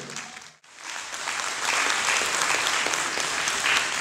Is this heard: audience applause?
yes